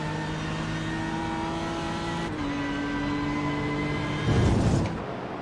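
A GT3 race car in iRacing accelerates down a straight at Silverstone, a steady close engine drone with a gear change partway through and a louder roar near the end, with no talking.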